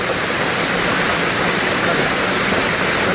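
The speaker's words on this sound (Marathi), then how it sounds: "त्याच्या पलीकडे पण पडतोय तेवढ्याच पिंडी पाणी पडतंय" Water falls over a large rock in a forest stream, a dense, loud, unbroken roar of rushing and splashing water close by.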